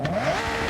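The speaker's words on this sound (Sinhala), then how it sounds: "තියෙන සුපිරි බ්ලෝ ඔෆ් එක" A twin-turbo Nissan GT-R R34 with forged pistons in Forza Horizon 6 gives a brief, loud burst of engine tone with a rising pitch and an airy turbo release, heard up close and without talk.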